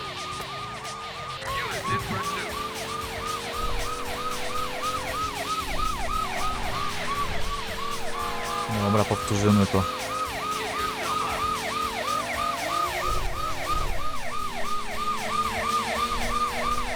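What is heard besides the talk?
police car sirens in video game Driver 2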